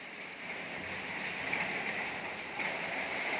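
Rain falls in a steady, soft hiss, a continuous wash of patter that holds at an even level with no voices.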